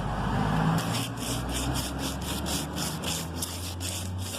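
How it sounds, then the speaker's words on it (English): Rusty metal rubbed by hand with 60 grit sandpaper during rust repair, giving a regular run of about ten rasping back-and-forth strokes, close and fairly loud, with no talking. "What I'm going to use now is a piece of 60 grit sandpaper. And then just by hand, I'm going to lightly go over it"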